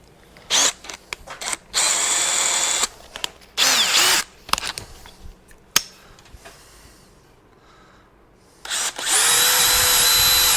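A power drill whirs in several short bursts with pauses between, drilling through a new hose, then runs in a long steady spin at the end, close and loud.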